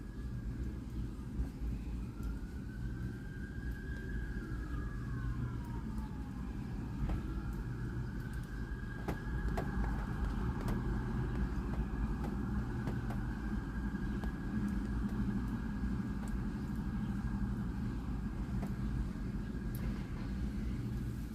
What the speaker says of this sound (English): Three cop cars going fast.